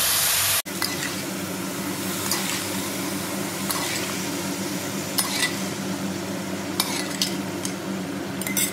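Boiled chickpeas and bottle gourd go into a hot pan tempered with panch phoron: a sharp clatter, then steady sizzling and frying with scattered utensil scrapes and stirring clinks.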